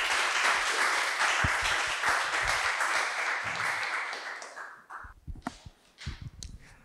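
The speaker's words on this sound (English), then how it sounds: "So let's give a round of applause for Starboard's Dr." Applause from a seated audience at a network analytics talk fades over about five seconds, giving way to a few scattered claps and thumps as the room settles.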